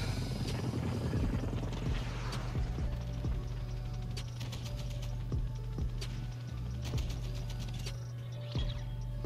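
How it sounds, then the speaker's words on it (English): Chopper gunner helicopter killstreak in a Call of Duty-style shooter: a steady low rotor drone runs throughout, with sharp repeated gunfire bursts and clicks cutting across it, loud and continuous. "we got a chopper gunner, guys"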